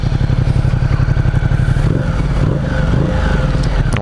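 A Ducati XDiavel motorcycle on its original exhaust idles loud and close, a deep rapid pulsing rumble that briefly rises and falls with a few blips partway through, steady throughout with no talk over it.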